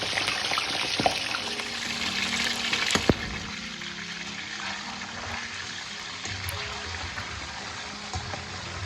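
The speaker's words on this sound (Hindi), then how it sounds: "तो अब चिकन जो है वो ऑयल में डाल देना है क्योंकि ऑयल हमारा गर्म हो चुका है।" Chicken pieces drop into hot oil for deep frying in a karahi, setting off a steady, dense, close sizzling hiss with a brief sharper burst early on and no voices.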